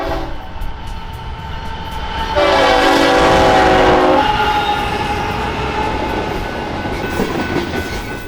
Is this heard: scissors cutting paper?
no